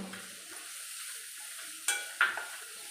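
Raw mango chutney being mixed with jaggery in a pan: soft scraping and stirring, then two sharp clinks of a spoon against the pan near the end, quiet and close.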